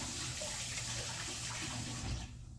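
Tap water runs steadily into a sink while food is rinsed for a sushi dip, a continuous close splashing flow that eases off near the end.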